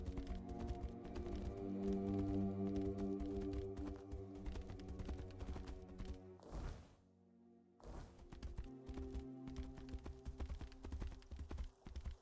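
Horse hooves clip-clop in a rapid, steady rhythm in the video game Tainted Grail: Fall of Avalon, fairly close, broken by a brief silent gap before the hoofbeats resume.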